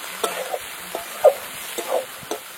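Spices with coriander powder are stir-fried in fish oil for a chital fish dish, giving a soft, close sizzle broken by a few sharp spatula scrapes, with no talking.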